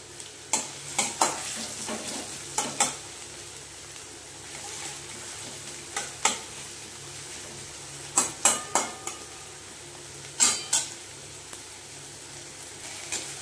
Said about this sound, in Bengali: বন্ধুরা এবার পেঁয়াজটা ভালো করে ভেজে নেব।